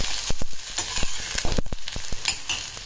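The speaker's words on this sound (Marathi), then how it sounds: "कांदा टाकते मी आणि परतून घेते" Onion sautés in a pan, a loud close crackling sizzle punctuated by rapid clacks and scrapes of a spatula stirring, dense and continuous without speech.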